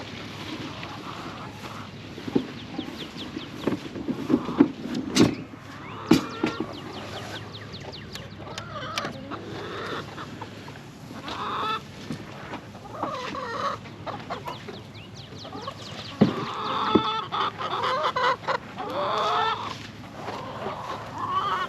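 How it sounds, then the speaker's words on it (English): Chickens cluck and squawk in a busy, uneven chatter at feeding time on a muddy farm, with a few sharper close calls standing out over steady background rustling and movement. "let's feed these chickens"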